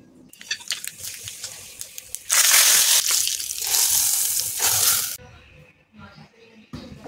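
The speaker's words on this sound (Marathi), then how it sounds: "थोडंसं पाणी घालून कने वाटण करून घ्यायचं" An electric mixer grinder purees coconut, peanuts, yogurt, green chillies, coriander and salt with a little water into chutney paste, a loud harsh whirring in several multi-second bursts, with someone talking before and between them.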